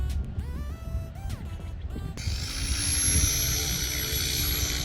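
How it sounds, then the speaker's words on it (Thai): A size 700 RC helicopter's motor and rotor spin up, with rising whining tones over a steady low rumble that swells into a loud, sustained airy whir close by. "กดสวิตช์นี้เพื่อปล่อยรอบมอเตอร์ปึ๊บ ใบพัดจะหมุนเลยนะครับ"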